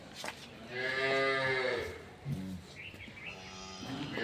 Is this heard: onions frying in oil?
no